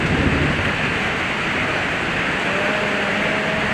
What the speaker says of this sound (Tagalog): Lakas ng ulan, ang lakas, yari, naapaw ang tubig.